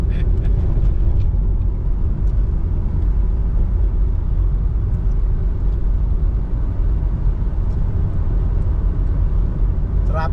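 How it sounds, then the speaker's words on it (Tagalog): Steady low rumble of road traffic on EDSA heard from inside a vehicle, a continuous loud drone of engines and tyres with faint passing noises, no clear voices over it. "Traffic sa EDSA guys."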